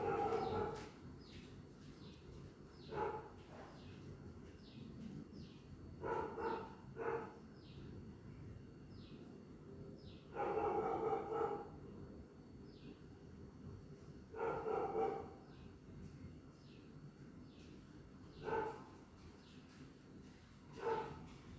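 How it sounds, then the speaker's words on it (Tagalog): A dog barks in short bursts somewhere outdoors near a house as rain threatens, roughly six separate bark groups spaced a few seconds apart at moderate distance over low background noise, with no talk. "Tingnan ko lang kung bakit tumatahol yung aso."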